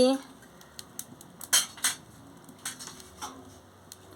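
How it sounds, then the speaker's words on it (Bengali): A spoon scrapes and clinks against a cooking pot as a curry of elephant foot yam and potato is stirred with salt, giving scattered sharp metallic taps, close and fairly quiet, with faint speech. "পরিমাণ মতো নুনটা দিয়ে দিচ্ছি দিয়ে ভালো করে নাড়িয়ে নিচ্ছি"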